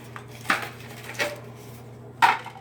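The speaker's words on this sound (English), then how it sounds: "So what I generally do is take this pan" A metal cooking pan is picked up and handled, three brief knocks and clatters spaced apart against a quiet background with a low steady hum.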